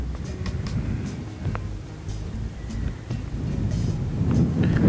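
Steady outdoor wind buffets the microphone with a low, continuous rumble that swells toward the end, recorded at a spot where rare white long-necked birds are being watched.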